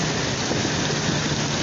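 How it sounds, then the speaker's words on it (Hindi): Heavy torrential rainstorm in Karachi's Orangi Town with strong winds, a dense steady roar of pouring rain hitting streets and surfaces, continuous and close throughout with no voices. "काफ़ी तेज़ जो है वो मूसलाधार बारिश का सिलसिले का आगाज हो चुका है"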